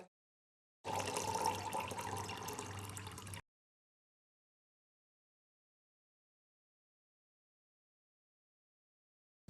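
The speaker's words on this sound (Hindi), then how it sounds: "जब हमने मग से पानी को उड़ेला इस फ्लास्क में" Water poured from a mug into a measuring flask in a school science demonstration, a steady splashing pour lasting about three seconds and then stopping, heard close up with no talk.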